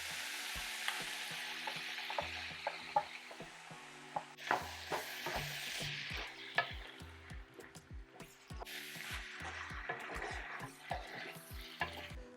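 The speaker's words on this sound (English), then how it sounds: "our stir-fried veggies and meat are just marrying in that wok together" Vegetables and meat stir-frying in a wok for a gochujang noodle dish, a steady loud sizzle broken by repeated clanks and scrapes of a utensil tossing the food, with no talking.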